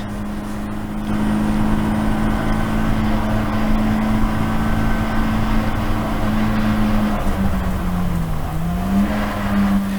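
Race cars circle the Snetterton track in a GAZ Shocks 116 Trophy race, engines held at a loud, steady high drone for the whole stretch, pitch dipping and rising near the end as they brake and accelerate.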